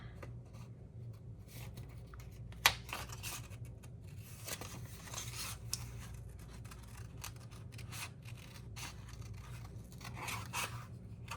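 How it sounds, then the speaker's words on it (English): Scissors cutting along the edge of a paper seashell printable for a summer ocean craft, producing soft, continuous snipping and paper rustle close by, with one sharper snip early on and no talking. "I'm gonna just cut along this edge"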